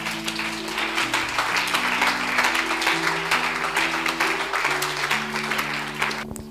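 A church congregation applauding the Lord during a sermon, dense steady clapping throughout with music-like sustained tones underneath, fairly loud and continuous.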